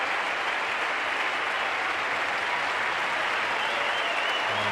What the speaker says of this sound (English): And an excellent ovation from the small crowd here at the SCG